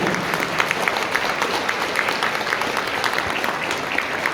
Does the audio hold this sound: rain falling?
no